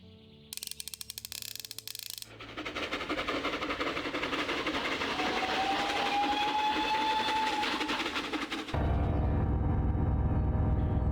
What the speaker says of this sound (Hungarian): a vonat